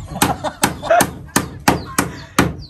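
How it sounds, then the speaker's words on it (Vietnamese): Hammer blows driving nails into the board wall of a rural Tày house under construction, about seven sharp, close whacks in an uneven rhythm, some glancing off as misses, with a little background talk. "hơn đóng đinh toàn đóng trượt này"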